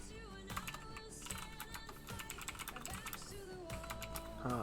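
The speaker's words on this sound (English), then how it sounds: "I'm just going to be looking and reading and typing out what I read." Computer keyboard typing up close, a steady stream of quick tapping keystrokes over a faint background hum, with soft music-like tones alongside and no clear talking.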